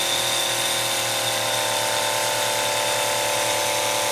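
A diaphragm pump misting sprayer rated for 100 to 300 psi is being turned up in pressure, giving a loud, steady hiss over a constant mechanical hum that runs unbroken throughout.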